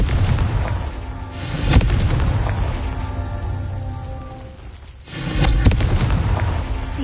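The Confringo explosive spell is cast in Hogwarts Legacy, producing two loud, booming fiery blasts. Each blast rumbles and then decays, and the second one arrives about three seconds after the first.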